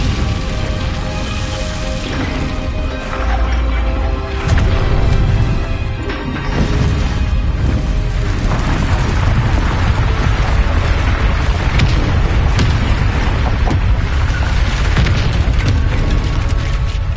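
In the Hogwarts Legacy video game, an Incendio fire spell bursts out in a loud, rumbling blast of flame, mixed with booming impacts and dense, continuous in-game action noise.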